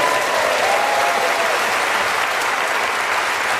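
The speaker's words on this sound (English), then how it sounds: "And we get a round of applause for both of them." Studio audience applause at a comedy panel game recording, a dense, steady wash of clapping that holds loud and even throughout with no pauses or speech over it.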